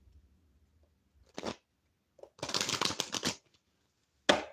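Playing cards being shuffled, a couple of quick riffle bursts with a longer rasping shuffle in the middle, close and fairly quiet in a still room.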